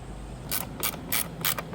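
Bolts being undone on a Triumph Rocket III motorcycle during a RamAir intake install, heard as four short bursts of metallic ratchet clicking, close and distinct, separated by brief pauses.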